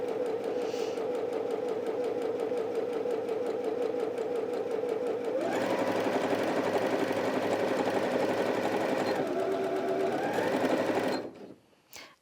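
A Janome 360DC sewing machine stitches continuously at close range, a steady mechanical whir that climbs to a faster, louder buzz partway through, then stops abruptly near the end.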